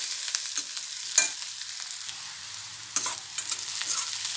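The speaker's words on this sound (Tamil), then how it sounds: "வெங்காயம் நல்லா வதங்கி வந்துடுச்சு போதும் இந்த அளவுக்கு வதங்கினா" Onions for sambar sizzle steadily in a hot pan until lightly browned, with scraping stirs of a spatula cutting through now and then, close and fairly quiet, no talking.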